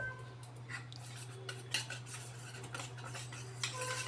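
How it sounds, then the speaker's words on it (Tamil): A utensil mixes curd and gram flour with water in a bowl for mor kuzhambu, making faint, irregular clinks and scrapes against the vessel over a low steady hum. "இப்போ நம்ம கொஞ்சம் கொஞ்சமாக தண்ணி ஊற்றி இதை மிக்ஸ் பண்ண போகிறோம்."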